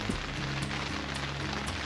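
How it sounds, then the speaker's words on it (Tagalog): Rain falls steadily on a surface in the Philippines, making a dense, even patter with a few brief drips, close and moderately loud without voices. "Ulan."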